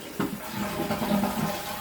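A household toilet flushes after its fill valve has been replaced, a steady rushing swirl of water running through the short clip, close and moderately loud.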